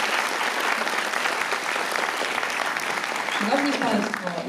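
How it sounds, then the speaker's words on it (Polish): An audience applauds a school choir at a pre-Christmas community concert, dense sustained clapping from a crowd, with a voice briefly speaking over it near the end. "Brawa dla nich!"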